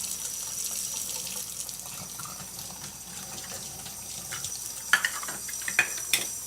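Warm water runs steadily from a kitchen tap while preparing roll dough, a constant hissing stream with a few faint clinks near the end.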